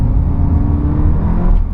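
A car on a wet lap of the Nürburgring Nordschleife, heard from inside as a steady low engine drone and road rumble with a faint whir, sustained and fairly loud.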